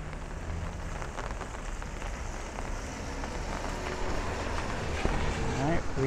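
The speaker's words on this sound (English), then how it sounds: "Rain is starting to get heavier now." Steady thunderstorm rain hisses and patters densely on surfaces at night in Bay Ridge, Brooklyn, New York City, growing slightly louder toward the end, with a voice speaking faintly underneath.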